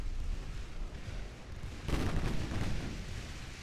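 Heavy 8-inch naval gun shells hitting an enemy ship in a naval warfare video game, a rumbling series of booms with one louder impact burst midway, fairly close, with no talk.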